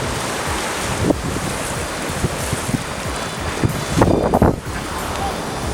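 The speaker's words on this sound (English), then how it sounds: "This is the ocean." Ocean surf at Indian Cove Beach rolls in with a constant wash, heavy wind buffeting the microphone and a louder burst of breaking water near the end.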